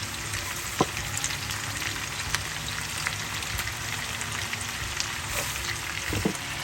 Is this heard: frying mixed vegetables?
yes